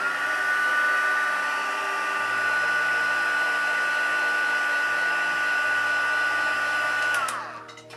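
Heat tool held on painted leather to set the paint, a steady loud blowing whir lasting several seconds before it switches off and winds down, with no talk.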